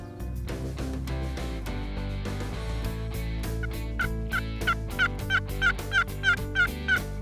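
A wild Osceola turkey gobbles in a Florida field, its rattling calls repeating in quick bursts against a steady tonal background that grows more rhythmic toward the end.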